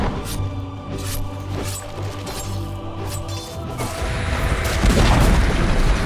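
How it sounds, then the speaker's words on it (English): Dota 2 match audio where a tower comes under attack and is destroyed: layered booming impacts and crashing hits over a steady game soundtrack, swelling into a dense, louder rumble of collapse toward the end. "Dire's middle tower has fallen."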